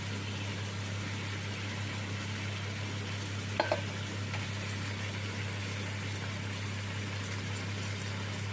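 Meat sizzles as it fries in hot fat inside a kazan for kebab, a steady close crackle with a brief stir or clink midway and no talking.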